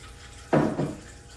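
Water splashes briefly into an oak baptismal pool, two short close bursts of pouring, the first stronger, over quiet background with no talking.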